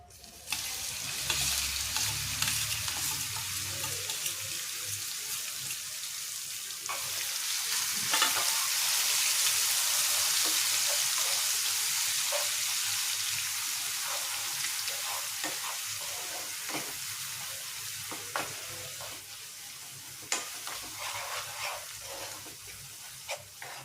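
Green chili and garlic paste fries with cumin and mustard seeds in hot oil for a chutney, a loud sustained hiss that swells after a low rumble at the start, with scattered pops and stirring clicks.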